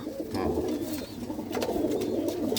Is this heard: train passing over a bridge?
no